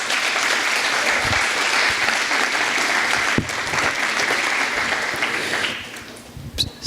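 A church congregation applauds during a service, a dense, steady wash of clapping that carries on for several seconds, then thins and fades out near the end.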